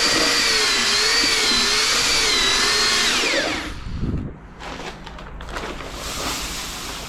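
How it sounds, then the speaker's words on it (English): A power drill with a paddle mixes screed slurry in a bucket, its loud close whine wavering under load before cutting out, followed by softer scraping and stirring sounds. "Now I mix it, I always mix it in my bucket."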